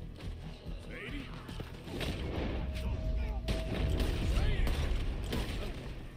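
Gunfire in the video game Red Dead Redemption 2, sharp gunshot cracks and booms going off amid a noisy battle backdrop of rumble and clatter.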